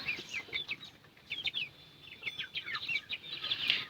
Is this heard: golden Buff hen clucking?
yes